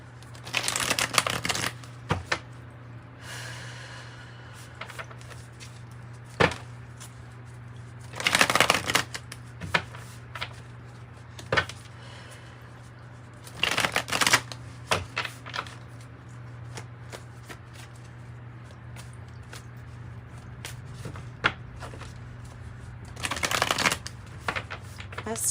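Tarot cards from The Wild Unknown deck are shuffled by hand in several brisk riffling bursts separated by quiet pauses, close and crisp, with a low steady hum underneath.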